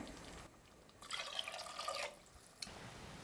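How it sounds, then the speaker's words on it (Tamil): Water pours in a short steady stream for about a second, splashing into a pressure cooker with rasam rice, with quiet handling noises before and after. "அதே கப்பில் அஞ்சு கப் அளவுக்கு தண்ணி சேர்த்துக்கலாங்க"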